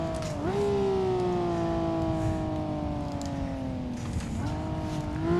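A 1978 Dome Zero race car in Assetto Corsa drones loudly at steady high revs, its pitch sliding slowly down with a sharp rev blip near the start and another shift-like dip around four seconds, close and continuous with no talk.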